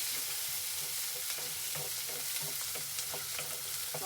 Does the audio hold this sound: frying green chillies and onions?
yes